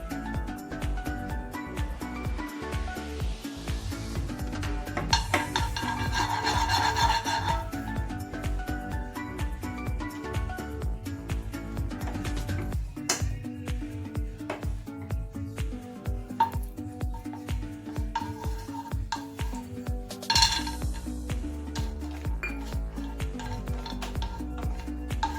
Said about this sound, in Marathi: त्यात आपण पहिलेच आधी काजू बदाम भाजून घेऊ।